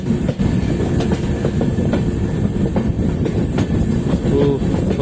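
Kollam Mail train with LHB coaches running on the line, a loud continuous rumble of wheels on rails with irregular clicks and clacks, heard close from aboard the moving train.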